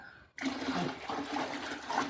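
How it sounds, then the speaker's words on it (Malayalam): Water poured from a container into a planting mixture in a garden, a steady close splashing gush that starts abruptly and runs on without talk. "ഇതിൻ്റെ നാലരട്ടി വെള്ളം ഇട്ടിട്ടുണ്ട് ഇതിൽ ഒഴിക്കട്ടെ"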